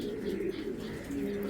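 A black checker racing hen pigeon coos in a low, soft, sustained murmur, close by and alone, with a short pause midway before the cooing resumes.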